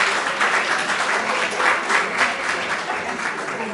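Audience applause at a gathering where holiday greetings are exchanged, a full, continuous patter of many hands, loud and close with slight swells, no voices over it.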